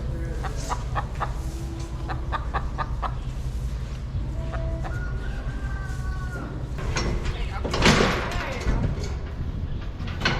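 A hen clucks softly on her nest in a farm setting, with repeated short clucks and chatter mixed with other fowl sounds and a steady low background hum, plus a brief louder burst near the end.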